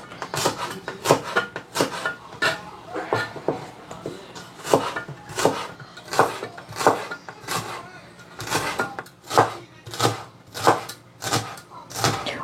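Garlic sliced with a knife on a cutting board, a steady rhythm of sharp, close chops roughly one or two per second, continuing for about twelve seconds without speech.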